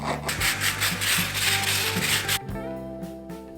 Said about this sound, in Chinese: 再用锉刀把品丝两端打磨光滑